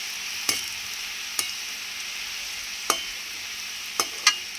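Nimki pastries fry in hot oil with a steady, close sizzling hiss, broken by five sharp taps of a utensil stirring or lifting them out.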